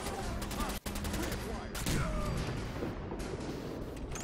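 Rapid gunfire in the video game Fallout 4, with dense bursts of shots and a continuous loud rattle running through the whole stretch and no voices over it.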